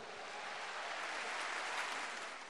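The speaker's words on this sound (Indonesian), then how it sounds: "Tepuk tangan dulu untuk anak muda ini." Studio audience applause on a television talk show, a brief, faint wash of steady clapping from a crowd.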